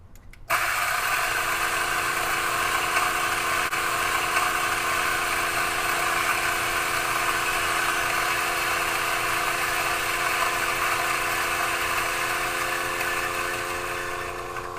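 A DF64 coffee grinder grinding 16 grams of beans straight into a portafilter, a steady high-pitched motor whir that starts abruptly and runs continuously for about fourteen seconds, close and alone.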